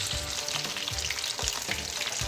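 Fish frying in a pan over a medium flame: a steady, close, dense sizzle with soft crackles and faint stirring scrapes throughout, no voices.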